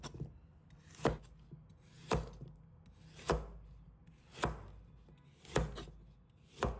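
A knife chops a carrot into small pieces on a wooden board, six evenly spaced, crisp thuds about a second apart, close up and otherwise quiet.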